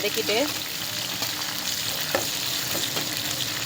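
Small onions sautéing in hot oil for an anchovy fish curry make a close, continuous sizzle, broken by a few soft stirring scrapes near the start.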